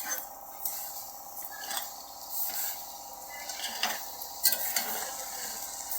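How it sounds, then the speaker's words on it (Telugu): Sweet pongal with jaggery is stirred in a pot on low flame, a soft thick squelching and scraping with a faint sizzle, near, while a voice speaks at times. "సిమ్లో పెట్టుకొని బాగా కలపాలి"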